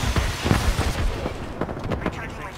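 Bursts of rapid gunfire and booming shots in a shooter video game fill the moment, dense and loud, with overlapping blasts and a voice briefly under the din.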